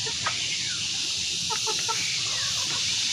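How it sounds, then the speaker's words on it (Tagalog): Chickens at a farm hut cluck in short bursts, several quick calls clustered near the middle, moderately close over a steady background hiss. "Nabigyan na natin ngayon ng mga manok."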